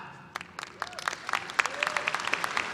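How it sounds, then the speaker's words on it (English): Commencement audience at a university graduation practises clapping, sparse hand claps building into a thin, quiet patter with a few faint voices. "You are encouraged to clap"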